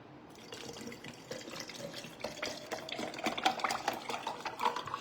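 A spoon stirs orange-flavored collagen powder into a drink, producing quiet liquid swirling and repeated light clinks against the glass that grow a bit louder toward the end, with no talking.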